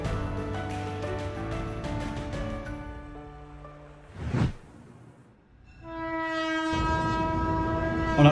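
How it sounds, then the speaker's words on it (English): A China-Europe freight train arriving in Shanghai from Germany blows its loud horn in long sustained blasts that break off briefly and resume, with rolling rail noise underneath. "the first Jinbo China-Europe freight train arrived in Shanghai from Germany"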